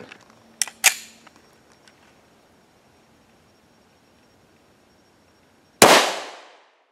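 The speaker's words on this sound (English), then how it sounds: "We're going to put three rounds in here, shoot three different spots, and see what we get." During ballistic helmet performance testing, a gun fires a single loud, sharp round at a Warrior Helmet by SDS, with a reverberant tail after a few faint clicks and handling sounds.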